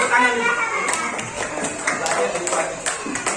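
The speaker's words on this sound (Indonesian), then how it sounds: "Tepuk tangan nih." Students in a school classroom clap for a group's handmade project, a short scattered burst of hand claps mixed with chatter and a teacher's voice.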